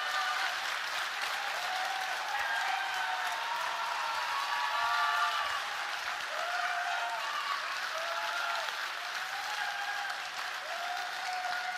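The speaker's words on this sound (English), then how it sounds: "A big round of applause, come on." Steady audience applause at a bartending competition awards event, sustained and fairly even for the whole stretch, with faint voices mixed into the clapping.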